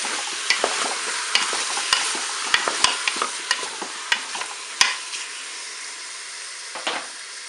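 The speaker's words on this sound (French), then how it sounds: "J'ajoute mes oignons." Onions fry in a Cookeo multicooker pot, a soft continuous sizzle broken by regular sharp clicks and scrapes of stirring, close and steady, with no talk.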